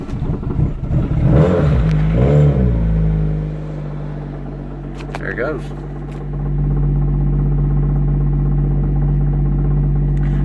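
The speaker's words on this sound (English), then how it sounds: "The muffler rusted off on it, so it's honestly one of my favorite sounding 4 cylinders I've ever heard." A 2013 Ford Focus four-cylinder with its muffler rusted off starts up with a raspy bark, then settles into a steady, loud, throaty idle; a person speaks briefly before it fires.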